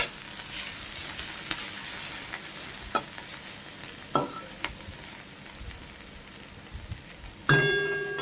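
Whole onions fry in a pan with a steady oil sizzle, broken by a few sharp clacks and scrapes of a utensil stirring, close and alone.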